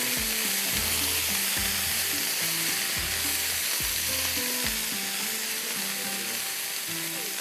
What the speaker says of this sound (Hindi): चलिए ये हो गया सारी सब्जियाँ, इसको करते हैं मिक्स।